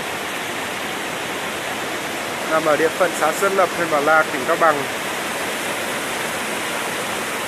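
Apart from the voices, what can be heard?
mountain stream water flowing strongly, headwaters of the Năng river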